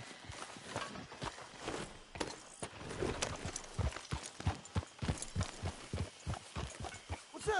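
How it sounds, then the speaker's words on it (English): Horse hooves clip-clop in the video game Red Dead Redemption 2, a steady rhythmic run of close, distinct hoof strikes at walking pace, with faint background ambience. "What's that horse doing in here?"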